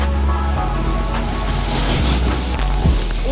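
Sea water washing and splashing at a beach near a rock formation, a continuous rushing surf with wind buffeting the microphone, loud and close with no speech.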